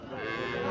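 A three-month-old Haryana breed calf gives a single short, steady moo, close and clear with nothing else over it.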